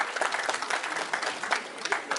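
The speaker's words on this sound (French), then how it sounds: "Je vous demande de l'applaudir" Crowd clapping at a Guinean independence anniversary gathering, a dense patter of many hands with uneven surges, moderately loud and close.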